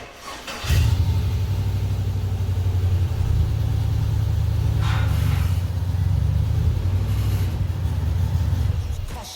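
A Jeep Comanche pickup's engine cranks and catches, then idles with a steady, loud, close low rumble, fitted with a new cooler and new power steering.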